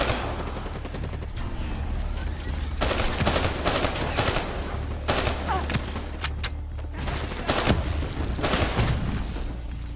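Dense, rapid gunfire from Call of Duty Black Ops III fills the whole stretch: overlapping automatic bursts and sharp single shots, loud and close, with scattered booms and no let-up.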